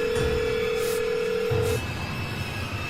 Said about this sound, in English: Finally, I had the sense to take out my phone and dial 911.